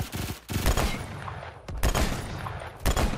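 Gunfire in the Phantom Forces shooter game with a Mateba 6 revolver among other weapons, loud rapid bursts of shots in three or four clustered volleys with short gaps, close and dense, with no voices.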